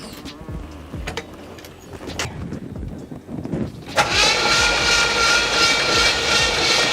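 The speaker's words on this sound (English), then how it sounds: "the next thing we have to do is turn this engine over and build up some oil pressure." An Oldsmobile 442 engine, unstarted for 30 years, turns over with uneven mechanical clatter, then catches into a loud, steady roar that continues to the end, no voices.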